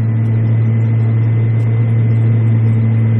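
Aircraft engine running up during start on a turboprop fitted with an autothrottle: a steady, loud, low droning hum with a constant tone, close and unbroken.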